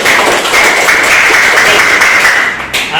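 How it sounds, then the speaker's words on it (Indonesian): Students in a classroom clap together during a teaching session, close and loud rapid clapping that carries steadily, then breaks off briefly near the end. "Tepuk tangan buat Safira."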